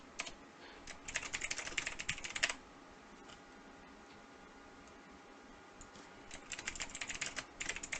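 Computer keyboard typing in quick bursts of soft clicks, one flurry at the start and another near the end with a quiet pause between, close and fairly faint.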